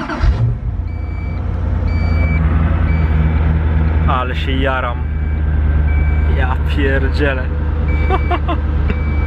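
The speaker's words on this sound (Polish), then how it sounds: "Teraz nam pika, ponieważ tylna klapa jest otwarta." Koenigsegg Agera sounding repeated evenly spaced warning beeps over a deep idling engine rumble while the rear hatch is open, with someone speaking excitedly close by.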